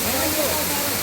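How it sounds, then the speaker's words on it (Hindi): A waterfall on a concrete structure near Nainital, Uttarakhand, pours out a loud, steady, close rush of water, an unbroken broadband roar that fills the whole second. "पहुंच ही गए हमारे मेन वाटरफॉल पर। पानी की आवाज सुनिए अब, बहुत रिलैक्सिंग है।"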